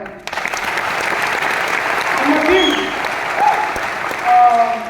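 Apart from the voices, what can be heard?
applause for Raju D G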